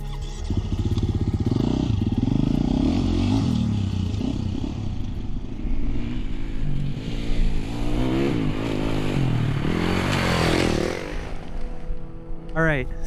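A Husqvarna FE350s dirt bike engine runs close by, a loud continuous motor roar that rises and falls as it revs, with someone talking over it.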